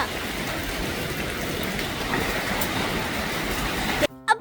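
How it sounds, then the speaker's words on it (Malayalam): Heavy rain pours down in a dense, steady roar for about four seconds, then cuts off abruptly into quieter, scattered sounds. "നല്ല മഴ"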